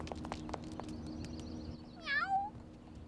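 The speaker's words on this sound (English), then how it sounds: "Oh, you are a handsome kitty. Are you lost?" A cartoon cat meows once, a short rising-falling cry, after a few soft clicks and taps in a quiet room; no one speaks.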